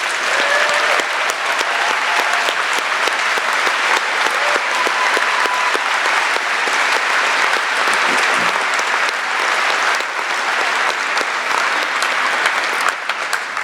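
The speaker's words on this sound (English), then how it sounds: "so we can give you a round of applause as well" A large audience at a law school commencement breaks into sustained applause, loud, dense clapping that fills the hall at a constant level for the whole stretch, with scattered cheers mixed in.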